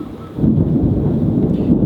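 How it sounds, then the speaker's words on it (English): A loud, deep roll of thunder rumbles continuously outdoors as a storm approaches, swelling after a brief quieter start and sustaining a heavy low growl throughout. "It's gonna thunder and it's gonna rain"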